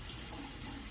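Tap water runs steadily into a sink while dough ingredients are rinsed off, a continuous close hiss with no talk.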